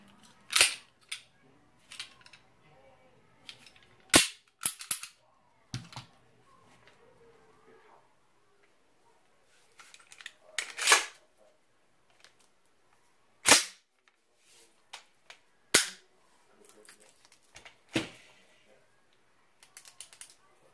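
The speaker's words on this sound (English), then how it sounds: "Got to safety check my weapons." Guns are handled during a safety check, giving sharp separate mechanical clicks and clacks with quiet gaps between them, close and fairly loud.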